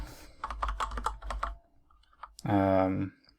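Code is typed on a computer keyboard in a short burst of close, clicky keystrokes, followed by a pause and then a brief spoken word.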